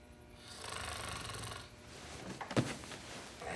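A man snoring in his sleep, a rough drawn-out rasp that fades, then a short sharp snort, close by and alone in a quiet room.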